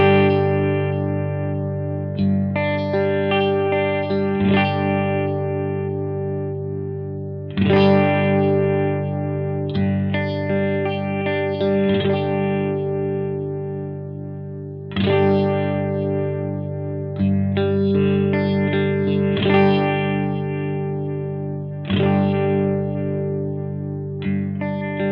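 Electric guitar played through an All-Pedal Microdose phaser pedal, repeated sustained chords with a slow swirling sweep as the control is turned up, loud and steady with no talking.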